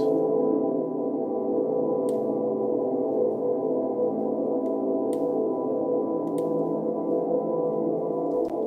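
A sustained, warm synth pad drones steadily in the low-mid range, with a few faint clicks scattered across it and no voices.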